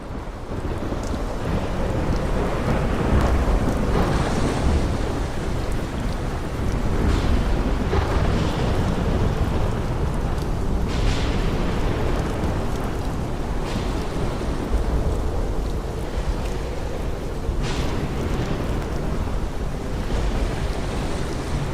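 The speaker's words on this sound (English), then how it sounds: "Rain at Thornfield." Steady heavy rain pours outdoors at Thornfield, a dense continuous wash with deep rumbles of thunder and gusts of wind swelling throughout, with no voices.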